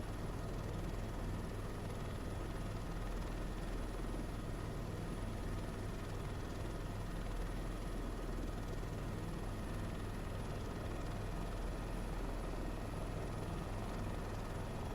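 A helicopter in a flight simulator game, with a steady, dense rotor and engine drone holding constant and even for the whole stretch, moderately quiet, with no talking over it.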